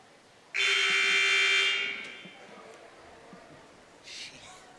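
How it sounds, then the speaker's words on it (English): A loud, harsh electronic buzzer blares for about a second and a half during a high school basketball game, then fades into the echoing hum of a large indoor gym. "Buzzers, they're loud pretty much everywhere, but this does seem to be one of the loudest gyms."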